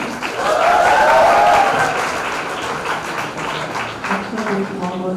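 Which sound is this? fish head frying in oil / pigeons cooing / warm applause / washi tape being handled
warm applause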